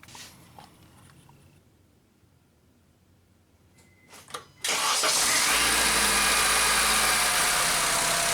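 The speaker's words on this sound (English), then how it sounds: "now I'm confident I can start the vehicle and let it run" A 2006–2011 Honda Civic with a newly replaced power steering pump is quiet at first apart from faint clicks, then the engine cranks and starts and settles into a loud, steady idle.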